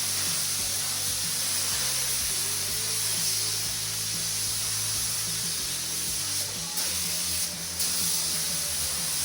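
Spray gun laying light coats of high-build primer onto a bare plastic car bumper, a steady close hiss with a faint compressor hum beneath, no talk.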